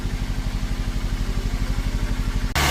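A 2006 Toyota Yaris engine heard close at the exhaust tailpipe, giving a steady, rhythmic low throb of evenly spaced pulses, loud and alone, cut off abruptly at the end.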